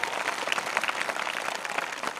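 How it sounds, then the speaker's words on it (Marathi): Enthusiastic applause from an audience at a village prize-giving ceremony, a short burst of many hands clapping briskly and evenly, moderately loud and slightly distant, without speech. "एकदा जोरदार टाळ्या वाजवा"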